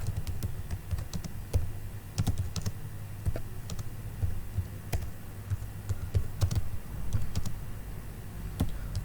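Keys clatter on a computer keyboard in quick, uneven bursts of close, soft typing while a question paper is entered into a form, with no voices.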